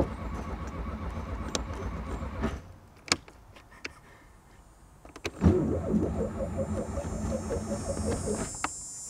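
A replica 1957 Porsche 356 Speedster fails to start: a starter whirs and cranks in short bursts with sharp clicks between attempts, and the engine never catches.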